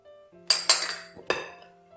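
A spoon clinks against a bowl while pineapple, candy biscuits, almonds and pistachios are mixed, giving three or four sharp close knocks with ringing decay over a quiet background.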